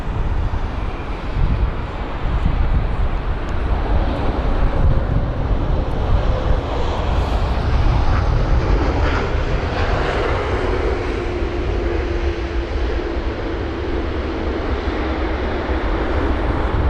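Jet airliners landing at London Heathrow in gusty wind produce a continuous, loud engine roar that swells and slowly shifts in pitch, with wind buffeting the microphone throughout and no voices.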